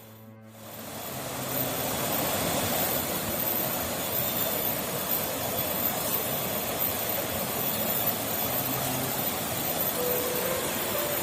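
A river flowing steadily, a constant broad rushing wash of water that stays loud and even throughout with no voices over it.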